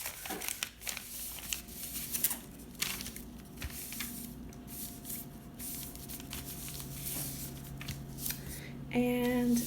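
Paper is folded by hand to make a small paper pot, with soft crinkling, creasing and rustling heard up close and fairly quiet over a background hum.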